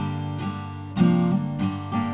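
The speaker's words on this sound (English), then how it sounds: "But if I was to just ignore targeting those notes and strum the chord like normal," Acoustic guitar strums Wayfaring Stranger chords in a normal pattern: a few close, clean strums in quick succession, ringing clearly with no voice over them.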